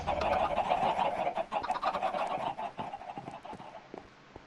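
Chickens in the Minecraft video game cluck and squawk in a busy, overlapping cluster, fairly close and steady before thinning out toward the end, with no talking.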